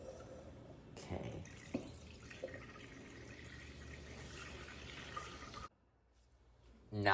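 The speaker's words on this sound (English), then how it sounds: "fill the pot halfway with water" Tap water runs steadily into a cooking pot, filling it halfway before boiling boxed macaroni and cheese; a continuous splashing flow lasts several seconds, then cuts off, leaving a quiet room.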